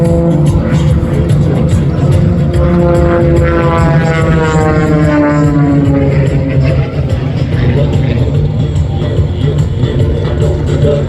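An MXS-R aerobatic plane flying an airshow display at Shellharbour: a loud, continuous propeller engine drone whose pitch sweeps up and down as the aircraft manoeuvres.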